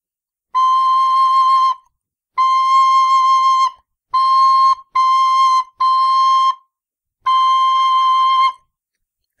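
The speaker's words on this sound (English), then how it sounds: "I'm going to give you a little play of the cross-fingering notes on these whistles" A Killarney tin whistle plays six clear, sustained cross-fingered notes in separate breaths, bright and close, with short pauses between them.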